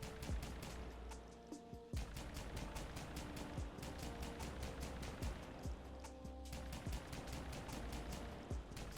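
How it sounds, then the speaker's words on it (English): A Quadrocopter's mounted gun fires in the Minecraft Immersive Aircraft mod, a rapid, even stream of sharp shots close up over a steady engine drone, with brief pauses between bursts. "you can left click and just shoot with your gun here"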